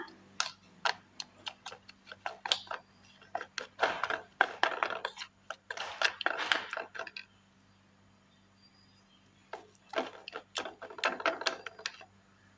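A paste of gram flour and navara rice powder is stirred in a bowl, giving a run of close, quick clicking and scraping strokes in bursts, with a pause midway before the mixing resumes.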